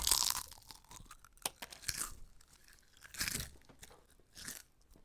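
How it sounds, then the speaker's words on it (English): Potato chips crunched and chewed during a blind taste test, a few sharp crisp bites followed by softer irregular chewing, close and fairly quiet. "now regularly chew it. I think we just need the first crunch."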